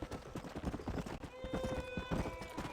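Horse hooves trotting in Red Dead Redemption, a steady rhythmic clip-clop close by with a brief whinny partway through, under quiet game ambience.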